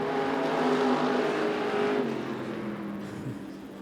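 IMCA stock cars racing around a dirt speedway in Arizona, a continuous roar of several engines at full throttle that swells and slowly recedes as the pack moves away.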